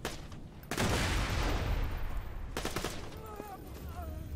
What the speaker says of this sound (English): who's shooting at me over here?